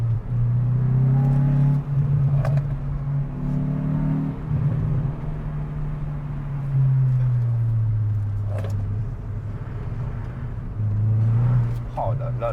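Hyundai i20N hot hatch on a winding road, its engine rising and falling through short bursts of acceleration and braking, with someone talking over the steady motor drone.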